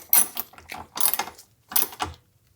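A 10 mm centre brace bolt being loosened in the engine bay of a Nissan GTR, three close bursts of rapid ratchet clicking separated by short pauses.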